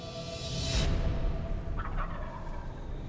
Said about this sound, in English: The gobblers are roosted off the field just a little bit